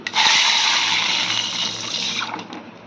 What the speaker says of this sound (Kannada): ಈಗ ನೀರು ಹಾಕ್ತಿದ್ದೀನಿ